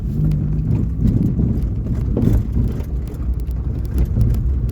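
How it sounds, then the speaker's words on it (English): A car rumbles along with a steady low engine drone and constant loose rattling and knocking, fairly loud throughout with no one speaking. "It sounds like a tin can shaking all the stones around."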